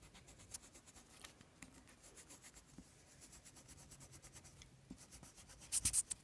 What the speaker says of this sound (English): now you're going to erase this part